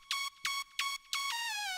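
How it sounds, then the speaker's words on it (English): Second layer of a synth lead for a future bass remix: four bright, harmonically rich notes with slidey pitch bends, each separated by short gaps, the last one held longer and gliding downward, close and alone. "the second layer sounds like this."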